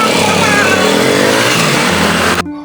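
A lowered motorcycle revs and pulls away loudly close by, its engine roar steady for over two seconds before cutting off abruptly as it leaves, with people talking in the background.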